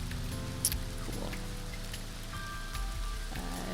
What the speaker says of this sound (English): This rain is depressing.